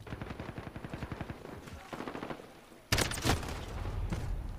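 Call of Duty Modern Warfare gameplay with a rapid automatic rifle burst of evenly spaced shots, then a pause and a louder, sharper volley with explosive cracks over the game's background noise.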